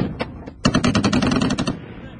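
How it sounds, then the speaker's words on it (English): Gunfire near Royal Marines in Afghanistan comes as a dense, rapid burst of loud cracking shots lasting about a second, with incoming rounds landing close, over background noise and faint voices. "as soon as you can hear the crack and thump, you know they're coming in pretty close"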